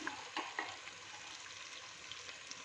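Spices, salt, red chilli powder, turmeric and black pepper are stirred into a frying pan for a chicken, potato and capsicum curry, giving a soft continuous sizzle with a few faint scraping knocks from the spoon; no one talks.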